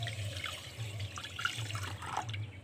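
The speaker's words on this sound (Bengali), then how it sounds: "এক বাটি চিনির জন্য আমি এক বাটি জল দিয়ে দেব" Water pours from a bowl onto sugar to make a cardamom-scented syrup for mihidana, a soft trickling splash over about two seconds with a low steady hum behind it.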